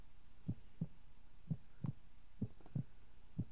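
A steady heartbeat thumps in Creepypasta Museum 3D, low muffled beats, some paired, repeating at an even pace over a faint hum.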